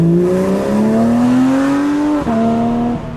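A 2023 Porsche 911 992 GT3 RS Weissach engine climbs steadily in pitch as it accelerates, with a brief shift dip near the end, heard loud and close from inside the car.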